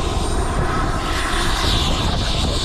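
A small jet aircraft taxiing during a taxi test, a loud steady engine roar with a broad hissing whine, close and continuous for a few seconds with no talking.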